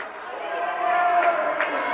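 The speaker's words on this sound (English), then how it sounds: "Crowd starts to chant boring." A packed high school boys' basketball gym crowd chants in unison with a steady, broad roar that stays loud throughout and builds slightly partway through.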